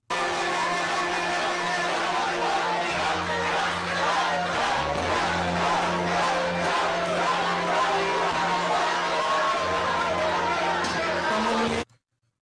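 A large crowd at a Donald Trump speech chants loudly and continuously, a dense roar of many voices that sounds distorted and harsh, holding at full level before cutting off abruptly near the end.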